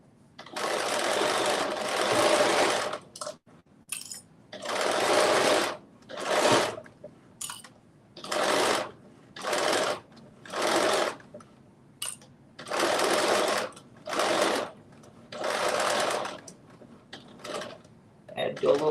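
A sewing machine stitches a knit crop top in a series of close, loud whirring runs of varying length, separated by short pauses, ending with a quick back stitch.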